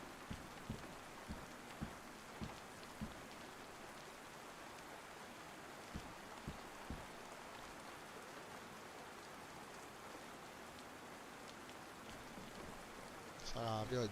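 Rain pours steadily in a zombie apocalypse survival game, a constant wash of drops with several soft thuds early on and a brief louder burst at the end.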